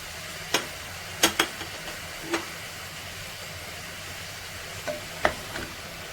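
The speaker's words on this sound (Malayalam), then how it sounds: "എന്നിട്ട് നമ്മളിത് നല്ലതായിട്ടൊന്ന് ഇളക്കുന്നു." A spoon stirs chickpea curry with chilli, coriander, pepper, turmeric, garam masala and chickpea masala, giving a few sharp scrapes and clinks spaced apart over a low, quiet sizzle.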